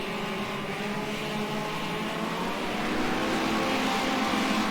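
Classic Hot Rod race cars battle in the closing laps of a Grand Final at Ringwood, their engines merging into a loud, steady, unbroken roar with no voices over it.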